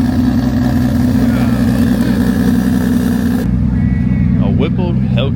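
A car engine roars loud and sustained during dyno pulls at a street car takeover event, holding a steady heavy drone, then drops off sharply partway through while people talk nearby.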